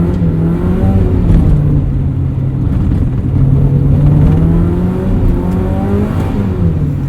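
A Mazda Miata drives through winter snow with its wheels spinning, the engine droning loud and close with rising and falling revs and a whirring tone that holds steady throughout.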